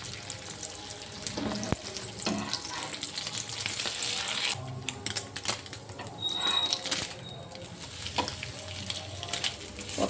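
Egg paratha frying in white oil, a steady crackling sizzle with intermittent clinks and scrapes of a utensil, fairly close, no talk.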